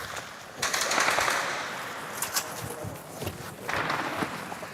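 Distant gunfire at a front line rolls and pops in bursts over a steady outdoor rumble, with scattered cracks and rattles rising and fading throughout.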